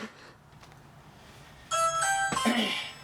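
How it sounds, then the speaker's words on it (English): An electronic doorbell chimes a short sequence of bright tones, ringing out clearly after a quiet, faint background. "Ring the doorbell?"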